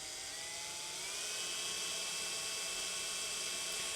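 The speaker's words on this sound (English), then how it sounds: "start to drill the hole" A high, steady whine of a power drill boring a hole for fitting a roller pulla, running continuously, its pitch holding constant over a faint background hiss.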